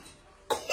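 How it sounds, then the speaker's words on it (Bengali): A single short cough at close range, with a weaker second burst just after, following a quiet lead-in. "কেন কাশি হচ্ছে"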